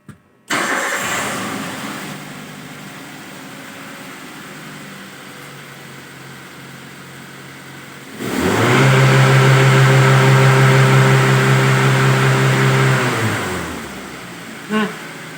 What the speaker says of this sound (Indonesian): Kita nyalakan kendaraannya dulu untuk mengetahui atau mendiagnosa awal ya.